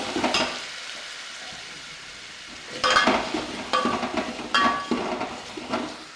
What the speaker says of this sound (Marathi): कांदा व्यवस्थित तेलामध्ये भाजून घ्यायचा व्यवस्थित मिक्स करून घ्यायचं